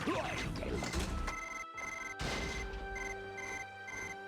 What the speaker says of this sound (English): My Nextel's going off.